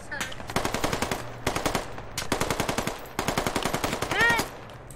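In the game Squad, rapid automatic gunfire rattles out in several bursts of close, loud shots separated by brief pauses, with a voice heard faintly at moments.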